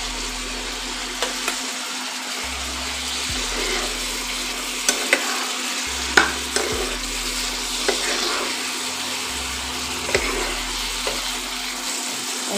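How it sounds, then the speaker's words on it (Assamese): Fried ash gourd pieces being stirred into a pan, with a steady low frying sizzle and a few scattered spatula knocks and scrapes, close and moderately loud with no talk. "এতিয়া মই ইয়াতে দি দিম এই ফ্ৰাই কৰি লোৱা কোমোৰাখিনি"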